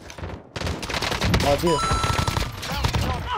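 Rapid submachine gun bursts rattle in Call of Duty: Warzone, dense automatic fire running throughout while players talk over it.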